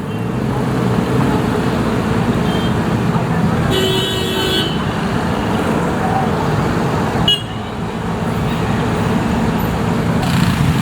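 Dense street traffic in a narrow lane of Patan, Kathmandu, after the 2015 earthquake, with motorbikes, rickshaws, cars and street vendors: a continuous loud roar of engines, broken by short horn toots, with voices in the background.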